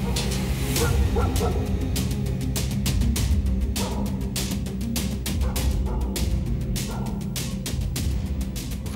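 A dog barks repeatedly in sharp, irregular bursts over a steady background of music or ambience, with some faint whimpering yips mixed in.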